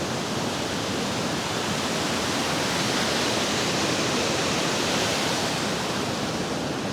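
High-pressure water rushes steadily along the Sach Pass mountain road, a dense, unbroken roar that fills the whole stretch at constant loudness with no voices.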